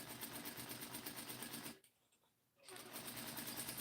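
Sewing machine stitching fabric, a fast steady mechanical chatter that stops for about a second in the middle and then resumes, running alone with no talk.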